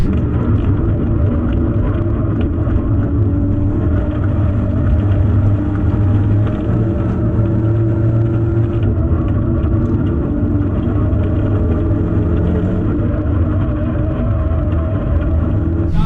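Constant heavy engine rumble from inside a moving Ford Focus RS on the Lakeside circuit, loud and unbroken, with rattles and road vibration underneath.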